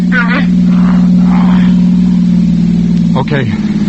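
A car engine sound effect in a 1945 old-time radio mystery drama: a steady, loud, low engine drone runs throughout beneath actors' voices.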